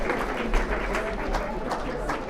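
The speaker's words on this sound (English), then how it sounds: "I keep asking you to clap, okay?" Audience at an apprenticeship awards ceremony clapping steadily, a dense wash of many hands with no voices over it.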